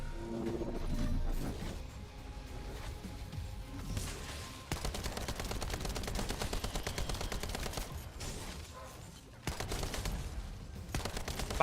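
Rapid sustained gunfire from a weapon in the sci-fi shooter game The First Descendant, dense automatic bursts that continue loudly, break off abruptly and resume in bursts.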